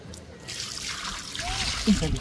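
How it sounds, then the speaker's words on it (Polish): Water poured from a bucket onto sand at a house building site, a soft continuous trickle and splash lasting a couple of seconds with a brief louder gush near the end. "I bierzemy wiaderko z wodą"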